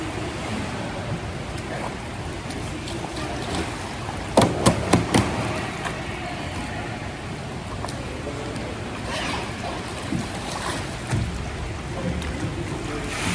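A kayak T-rescue in an indoor pool, with steady water sloshing and splashing throughout and a short burst of several sharp knocks of paddle or hull midway, all heard without talk.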